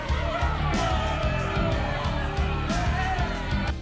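Animated villagers yell and whoop as a crowd while charging at aswang, a dense, loud, continuous clamour of shouting voices with rhythmic pulses throughout.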